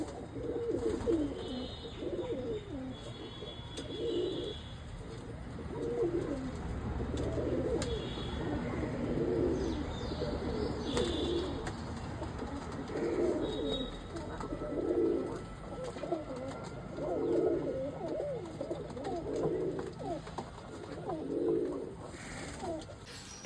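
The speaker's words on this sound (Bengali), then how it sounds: "এত পায়রা পায়রার ঘরের মধ্যে কি করছে?" Many pigeons coo inside a pigeon house, repeated soft rolling calls overlapping in a steady rhythm, fairly quiet and close, with faint higher chirps mixed in.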